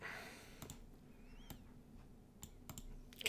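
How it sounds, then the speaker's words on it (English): Sharp computer mouse clicks come in scattered single and paired taps during a GeoGuessr game, quiet and close, with gaps between them and no talk. "One thing I've got to get better at is just the aimless clicking."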